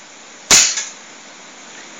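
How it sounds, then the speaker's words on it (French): A single sharp snap from a Cybergun spring airsoft FAMAS G1 fired at a gate, a loud close crack with a brief tail, then quiet background. "Alors on va tirer sur mon portail."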